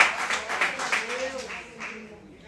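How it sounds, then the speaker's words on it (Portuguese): A church congregation claps during a service, a dense, steady patter of many hands close by that thins out toward the end, with voices under it. "Aplauda, Senhor."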